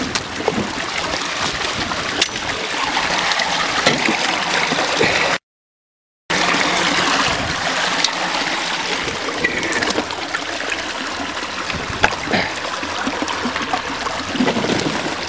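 Spring water flows steadily into a spring-fed pond outdoors, a continuous close rushing and gurgling that is interrupted by one short silent break, with no voices.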